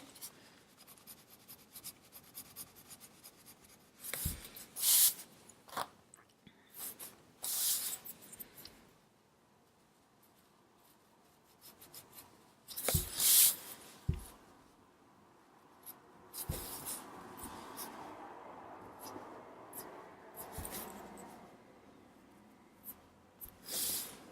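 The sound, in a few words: colored pencil blending on paper in a drawing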